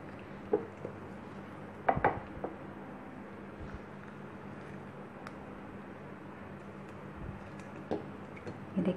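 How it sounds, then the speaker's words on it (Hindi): A knife cuts peeled mango into pieces for a mango shake, giving a few soft, sparse taps and knocks on a board, faint in a quiet kitchen with a low steady hum. "ये देखिए, इसी तरीके से सारे आम के हमें पीसेस करने हैं।"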